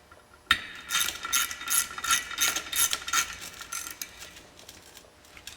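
A hand ratchet tightens the aluminum clutch cover bolts on a Polaris Sportsman ATV, giving several quick clicking bursts in close succession, loud and near, with no talking.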